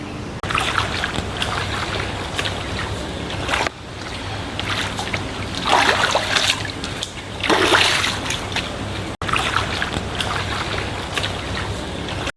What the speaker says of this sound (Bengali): আশ্রমের গা ঘেঁষেই এই ঝর্ণা বয়ে গেছে